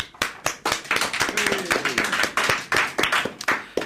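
Scattered applause from a small group, distinct sharp claps repeating in a loose rhythm, fairly close and moderately loud.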